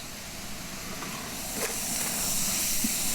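Shallots and onions sautéing in oil for a Kerala roasted prawn curry, giving a steady broadband hiss that swells slightly toward the end, close and continuous with no talking.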